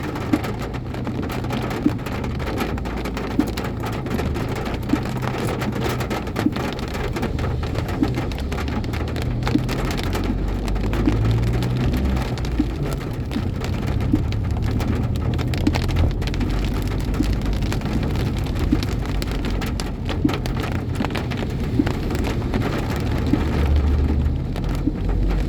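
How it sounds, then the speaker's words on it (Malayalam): Steady rain falls on surfaces, a dense continuous patter with low rumbling underneath, even in loudness throughout and with no voices. "നല്ല മഴയായിട്ടില്ല."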